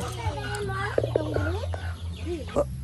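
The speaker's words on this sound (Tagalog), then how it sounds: "Kaning mga manok guys, nga dagko kayong sunoy." Chickens cluck in a run of short calls over a steady low hum, fairly close, with occasional brighter squawks.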